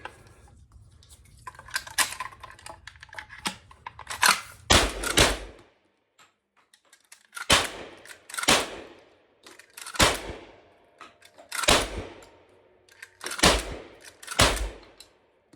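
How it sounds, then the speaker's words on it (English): A Cimarron 1887 12-gauge lever-action shotgun fires a string of loud, close shots spaced a second or two apart. Sharp metallic lever clacks between some of the shots point to it being cycled. "So let's do a little bit more shooting here."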